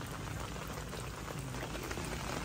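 Steady rain pattering down at a seaside campsite at Malagundi Point in Lobo, Batangas, a dense, even hiss of drops that holds at the same level throughout with no voices.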